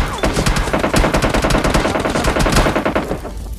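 Rapid automatic gunfire from a shooter video game, with a BRDM armored vehicle in play, crackles in dense continuous bursts, loud and close, for nearly the whole stretch with no talking.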